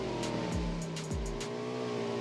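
Car engine in PUBG Mobile, droning steadily and loud throughout, with two low thumping bumps and squeal-like sweeps, the note shifting as the vehicle drives off.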